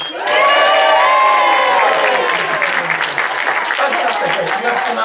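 Loud audience cheering, whooping and clapping at a live retro-themed gaming show as winners hold up golden joystick trophies, a dense, sustained roar of voices with applause that gradually thins over several seconds.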